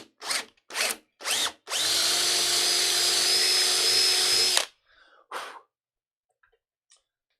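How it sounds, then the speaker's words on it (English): A power drill bores into the wood of a cheap acoustic guitar headstock: three short bursts, then one long steady whine of about three seconds, a final brief burst, and quiet, all close and loud. "when I drill into this wood, it doesn't even smell like wood."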